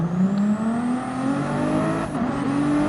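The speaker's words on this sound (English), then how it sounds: "Trying to get his car going again." Race car engine in a Porsche versus Ferrari racing video game, revving steadily and climbing in pitch after a spin as the car gets going again, loud and continuous with no talk.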